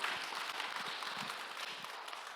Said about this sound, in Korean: 우리 감사의 박수 한번 돌립시다